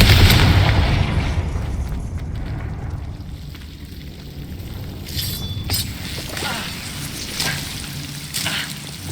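The Confringo fire spell in Hogwarts Legacy bursts with a heavy, close boom that rolls into a fading rumble, followed by scattered crackles and debris-like pops.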